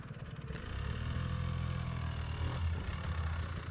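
A KTM dirt bike engine drones at a fairly steady low pitch, moderately close, with a slight swell in revs partway through.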